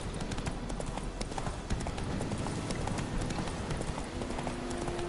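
Horse galloping in The Witcher 3 video game, a steady rapid clip-clop of hooves on the ground running throughout, close and fairly loud.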